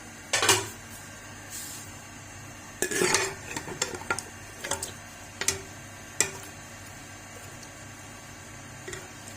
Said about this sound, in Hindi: अब प्रेशर कुकर का कवर इस तरह से उठाएंगे।